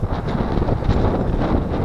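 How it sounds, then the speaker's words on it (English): Strong wind buffets the microphone with a loud, continuous low roar that pulses and gusts throughout. "It's windy today."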